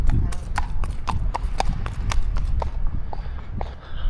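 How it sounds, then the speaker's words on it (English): Many hooves clip-clop in a quick, overlapping patter as a group of horses passes close by, with faint background voices and street noise. "after this large group of horses passes"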